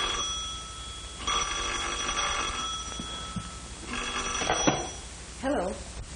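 An old-fashioned telephone bell rings in repeated bursts, two long rings followed by a shorter one, fairly loud and close in a quiet room.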